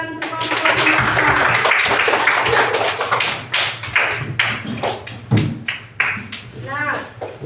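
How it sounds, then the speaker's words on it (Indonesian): A group of primary school pupils in a classroom claps for their classmates, a burst of dense clapping that thins into scattered taps as a voice begins talking over it. "Sudah, beri tepuk tangan untuk kelompok Semangka."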